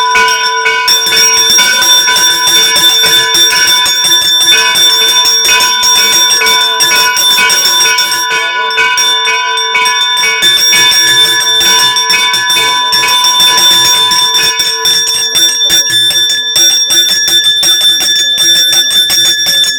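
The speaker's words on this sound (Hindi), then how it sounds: "हाथ लगा के तू घंटी बजा मम्मी।" A temple bell is struck repeatedly in a fast, continuous, ringing clang, loud and close, with bright overlapping tones sustained throughout and a brief lull midway.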